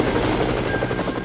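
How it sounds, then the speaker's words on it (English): A helicopter loaded at the Squamish airport drones steadily from inside the cabin, a loud continuous rotor thump and engine whine with no talk. "We made our way to the Squamish airport, packed everything up, and we're loaded into the heli."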